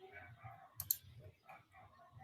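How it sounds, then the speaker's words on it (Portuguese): A single sharp computer mouse click, brief and close, heard during a video call while voices talk underneath. "Eu cliquei na coisa errada."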